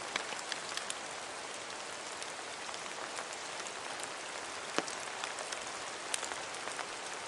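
Steady rain falls outdoors at the Gwal-y-Filiast dream chamber, a broad close hiss with scattered sharper drops tapping nearby and no one speaking.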